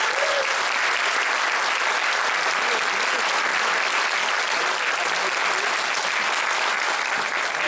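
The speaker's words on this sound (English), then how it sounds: "If we give them a round of applause," Audience at a high school invitation ceremony for a New Year parade applauding, a dense, loud, steady roar of clapping that continues unbroken throughout.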